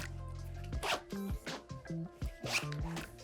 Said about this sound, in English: you can also pack a lot in here because it has one of these compressible zips. So the whole thing squeezes in on itself.